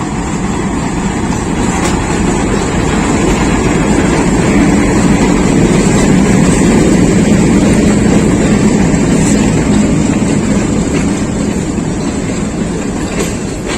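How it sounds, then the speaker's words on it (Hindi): Pakistan Railways HB 20 locomotive hauling the Tezgam train rake, a loud, close, continuous rumble of rolling wagons with wheel clatter and faint squeal throughout, no talk. "HB 20 जो है वो लेकर आ रहा है रैक को।"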